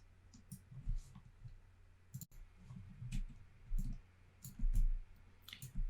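Sharp computer mouse button clicks sound in scattered bursts, several crisp taps spaced irregularly over a quiet background, close and fairly distinct.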